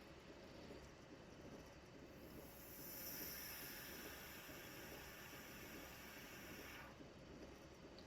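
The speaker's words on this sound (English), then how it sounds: "This is the train brake release sound." In Train Simulator, an SHG Class 07 locomotive gives a quiet, steady brake release hiss that rises for a few seconds and then fades back into a low background rumble.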